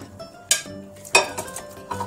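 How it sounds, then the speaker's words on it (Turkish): Potatoes dropped into a wide bowl, giving two distinct clunks with a brief ringing clink, then a softer knock at the end, in an otherwise quiet kitchen. "Kabımın içerisine öncelikle patatesimi ilave ediyorum."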